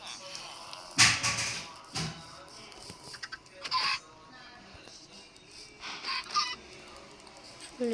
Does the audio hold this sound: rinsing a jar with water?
no